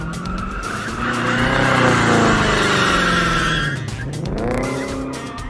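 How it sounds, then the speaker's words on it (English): A BMW does donuts in a freshly painted parking lot: loud, sustained tire squeal and skidding over a revving engine, swelling and fading as the car circles, with no voices. "a BMW driver was doing donuts in a freshly painted parking lot"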